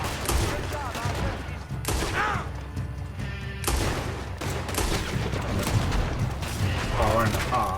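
Rapid pistol fire rings out in a Red Dead Redemption 2 saloon brawl over stolen liquor, with loud repeated shots and clatter mixed with shouting voices and game sounds.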